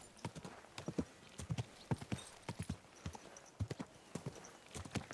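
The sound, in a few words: horse hooves in video game Kingdom Come Deliverance 2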